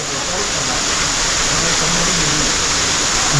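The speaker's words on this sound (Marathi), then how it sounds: "पाऊस कसला आला भयंकर जोरदार पाऊस आला आहे" Loud, dense roar of heavy monsoon rain mixed with the rushing water of a waterfall, constant and enveloping with no pauses, at Marleshwar temple in Konkan.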